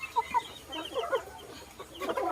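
Backyard chickens clucking in short bursts, a few close clucks scattered across the moment, fairly soft, with no talking over them.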